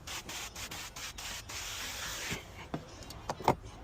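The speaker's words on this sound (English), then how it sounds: "Spray my solution." Several short hissing bursts of a spray bottle of cleaning solution, spaced irregularly over a soft rubbing background, close by, during windshield film installation on a 2018 Ford.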